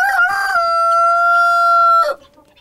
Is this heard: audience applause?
no